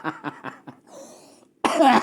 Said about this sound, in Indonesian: Hampir batuk-batuk nih.